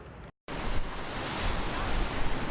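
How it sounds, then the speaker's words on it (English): Big surf and gusty wind pound a beach at Jacksonville Beach during Hurricane Sandy, a loud continuous roar of crashing waves and buffeting wind on the microphone, briefly cut out near the start. "Big waves and gusty winds, just two products of Hurricane Sandy that prompted the city of Jacksonville Beach to close the beach until Sunday"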